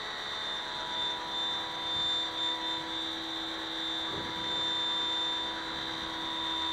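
A pressure washer runs steadily while cleaning carpet covers, a loud continuous whine with a high tonal drone and a few surges in level, no voices over it.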